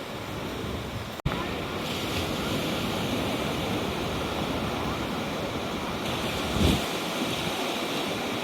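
Rough sea waves crash and splash against the steps of the Torquay seafront on a windy, rainy day, a continuous loud roar of surf with heavy wind buffeting the microphone and a surge of spray midway.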